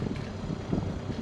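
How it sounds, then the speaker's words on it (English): A boat engine idling after being started before leaving Egmont Key, a low steady rumble close by with wind buffeting the microphone throughout. "We just got the engine started up."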